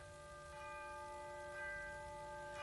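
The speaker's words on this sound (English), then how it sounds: "Chiming midnight." A clock chimes midnight in a quiet apartment building at night, its sustained, ringing bell tones layered and overlapping steadily throughout, moderately loud and with no voices.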